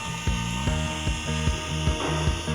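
An electric drill fitted with a 2.5 hex bit backs screws out of the front cover of a Talos T60X, giving a close, loud whirring buzz with repeated ratcheting pulses and no talk.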